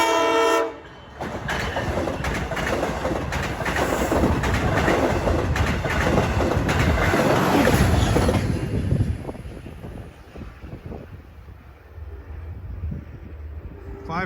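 Train 655 from Port Jeff to Jamaica rushes past the New Hyde Park Road crossing with a loud roar and rhythmic wheel clatter, then fades as its horn sounds in the distance.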